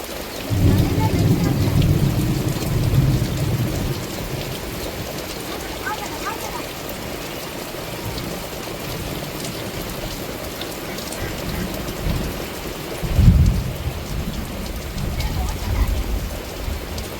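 Heavy rain pours down steadily at a seaside village, with a low rumble of thunder rolling in at the start and again near the end.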